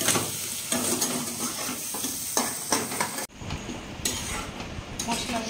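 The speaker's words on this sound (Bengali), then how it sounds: "এবারে দেখো তেলের মধ্যে দিয়ে দিচ্ছি পেঁয়াজ।" Onions drop into hot oil for a soybean curry, a dense crackling sizzle with spatula stirs and pan clinks, a brief dip midway before the frying resumes, with occasional talk over it.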